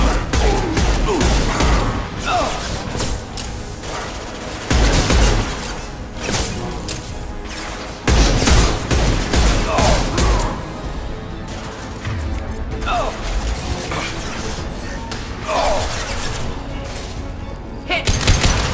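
Gunfire and impacts in the video game Mass Effect Legendary Edition, loud repeated crashes and shot bursts throughout combat, with voices calling out over the action.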